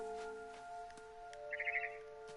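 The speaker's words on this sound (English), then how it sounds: "Then I heard chirping outside my window." Brief, faint chirping of a barn swallow in the video game What Remains of Edith Finch, a short twittering burst over steady game ambience and tones.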